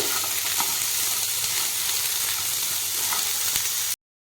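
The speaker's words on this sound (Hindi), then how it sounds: "झुडंग को आमे 1 ରୁ 2 मिनिट पाई तेल सहित फ्राए होगा" Jhudunga, a bean dish, frying in hot oil in a pan, giving a steady dense sizzle with a few soft stirring clicks, loud and continuous until it cuts off abruptly near the end.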